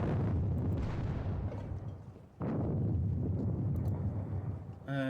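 Two deep artillery booms roll out in a Napoleonic-era war game at the Katzbach, each with a long rumbling decay, the second starting midway, followed by a short musical chime at the end.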